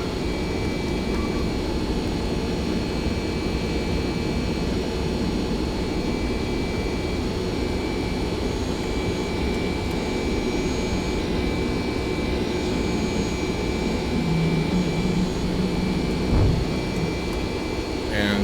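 Boeing 767 jet engines roar at takeoff in the X-Plane flight simulator, a steady, dense rumble with whining tones that holds for the whole stretch without talk.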